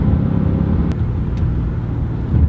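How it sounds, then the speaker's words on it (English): A turbocharged Mercedes-AMG C63 S rumbles steadily up close, its exhaust burbling with a couple of sharp pops cracking through the low engine drone. "All those pops and burbles. It's nice to see a turbocharged car do that."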